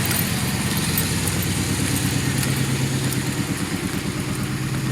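A 2006 Pontiac Grand Prix engine with a misfire runs through a newly welded exhaust, a close, steady, throaty rumble with an uneven pulsing beat throughout.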